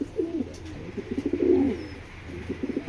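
Male racing pigeons coo close by in a run of soft, throaty, bubbling calls, with small rustles between them.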